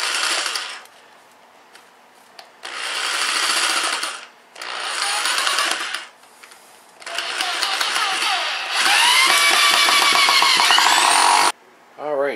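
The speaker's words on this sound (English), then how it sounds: "I'm going to start screwing on the legs here" Power drill driving screws into wooden legs for a brewing bench, in several loud bursts of whirring motor separated by short pauses, with one long sustained run near the end and a brief final burst.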